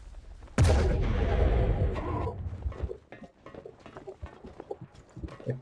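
A captured cannon aboard a heavily armed, armoured gunboat fires in Battlefield Vietnam, one loud booming blast that rings out for about two seconds before fading into a rumbling battle ambience.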